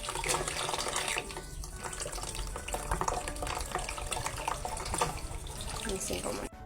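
Tap water runs steadily into a sink as crabs are washed and cleaned for a coconut-milk crab dish, a loud continuous splashing rush with dull clatter mixed in, lasting throughout.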